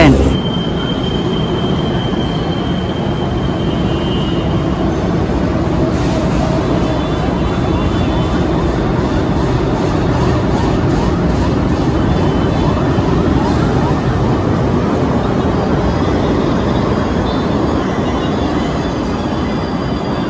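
A rail train runs near Batasan station on the MRT-7 line in Quezon City, a loud steady rumble of wheels on track with faint high squeals throughout.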